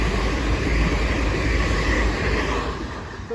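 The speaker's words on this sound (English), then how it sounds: "Here's the train." A ten-car passenger train rolling past the Grove Road level crossing, a steady close rumble of wheels and carriages that holds loud and even throughout.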